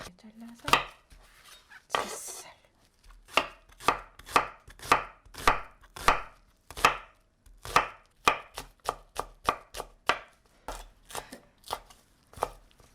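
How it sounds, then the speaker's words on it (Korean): Knife chops onion, green onion, carrot and sweet potato on a cutting board, a close series of sharp, fairly regular thuds with short pauses between bursts. "당근하고 고구마는 좀 약간 가늘게 채를 썰어주세요"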